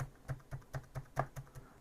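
Keys tapped on a Lenovo IdeaPad laptop keyboard under repair, about eight quick, light clicks in an even rhythm, close and quiet with no talk.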